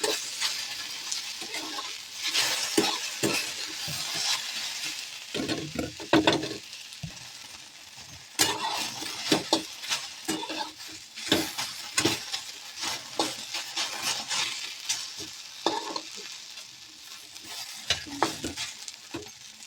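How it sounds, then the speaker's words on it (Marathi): Okra stir-fried in a pan until it takes on dark spots, bursts of sizzling with frequent scraping and clattering stirs, close and uneven, no voices. "या पद्धतीने आपण असे आदनमधनं परतून भेंडी चांगली डाग पडेपर्यंत अशी भाजून घ्यायची"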